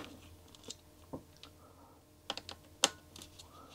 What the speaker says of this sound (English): Just gonna remove the old broken off keyboard clips.